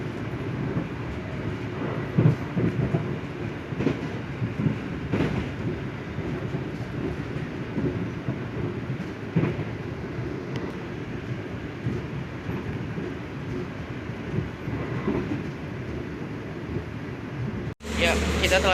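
The KA Argo Sindoro passenger train runs steadily on rails, a continuous low rumble with faint clicks heard from inside the carriage, ending in a brief jolt.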